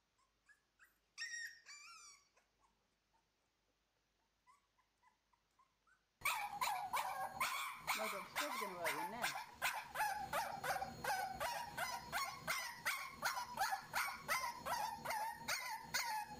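A puppy just over two weeks old gives a few thin, high yips and whimpers near the start, then a steady run of loud, rapid barking and yapping close by continues without pause to the end.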